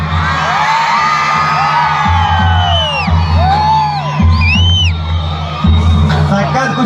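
A large outdoor crowd at a public event in Mandya, Karnataka, whoops, yells and cheers loudly and without a break. Loud shrill whistles rise above the crowd, and a steady low hum from a sound system runs underneath.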